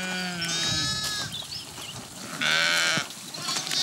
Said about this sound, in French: Cette brebis-là est en train d'agoniser depuis hier soir.